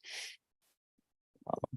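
A single short, sharp sneeze in a quiet meeting room during a planning commission session, followed by near silence, then a brief burst of speech.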